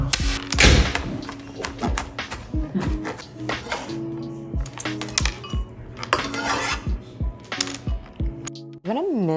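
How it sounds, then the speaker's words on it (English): Portobello mushrooms minced quickly with a knife on a cutting board, a dense run of rapid, close, sharp chopping taps with a few heavier thuds, music playing underneath throughout. "I'm gonna mince the portobello mushrooms into really small pieces."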